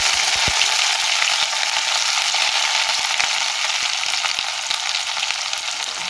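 Ground ginger, green chili and garlic paste sizzles loudly and continuously in a hot pan for a restaurant-style methi malai matar. The hiss stays close with faint clicks of stirring throughout.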